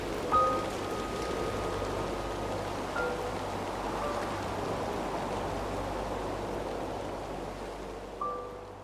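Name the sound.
rainstorm heard from inside a cabin, from the video game Red Dead Redemption 2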